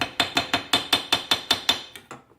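A hammer gently taps a part on a Kawasaki Prairie 650 engine during a dropped-valve repair, striking about nine times in a steady, evenly spaced rhythm with crisp metallic clicks that end in two softer taps.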